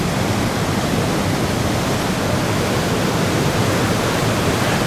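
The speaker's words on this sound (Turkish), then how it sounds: "deniz gerçekten çok yüksek ve çok dalgalı" Rough, high Black Sea waves surge against a pier in a dense, unbroken roar that holds steady and loud throughout, with no voices.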